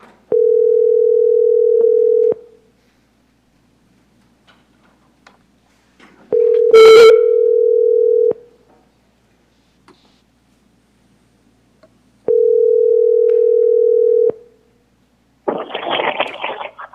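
A telephone line plays three identical steady tones, each about two seconds long and separated by silences of about four seconds, while dialing into a city council meeting. A short hiss of noise follows at the end.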